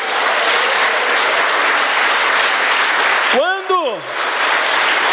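A church congregation applauds steadily in a dense, sustained wash of clapping, with a brief whistle-like tone rising and falling near the end.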